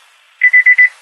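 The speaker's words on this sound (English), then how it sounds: "Oh, that's my door alarm." A car's door alarm chimes because the keys are left in the ignition: four loud, evenly spaced electronic beeps, starting after a short faint lead-in and followed by the start of a fifth.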